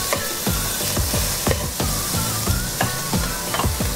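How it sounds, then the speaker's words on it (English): Bacon frying in a pan for prawn chowder, a loud continuous sizzle broken by repeated rhythmic scraping strokes of a spatula stirring roughly twice a second. "Lutuin na natin yung ating bacon."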